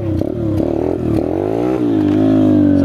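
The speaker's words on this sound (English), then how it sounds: "As you see, I'm gunning the gas and I'm not being able to hold it up because there's not enough power in first gear" Chinese dirt bike engine revved hard in first gear, close and loud, with several short throttle blips followed by a sustained rising rev that holds steady.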